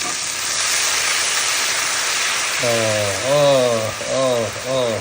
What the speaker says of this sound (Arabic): واحدة واحدة بقى كده ننزل بالخل.